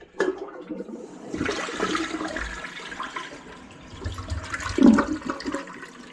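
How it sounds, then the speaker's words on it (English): A Kohler toilet flushes close by, a loud rushing swirl of water through the bowl that surges again toward the end, with no talking. "So we'll flush it a couple times to get that blue to clear out."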